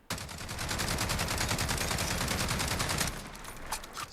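An L85A2 rifle firing full auto in Call of Duty Modern Warfare, a loud, rapid, unbroken burst of gunfire for about three seconds that then stops abruptly, leaving a fading echo.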